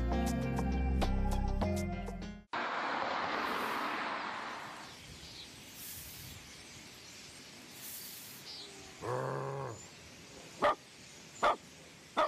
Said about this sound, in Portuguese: Sai daqui, cachorro!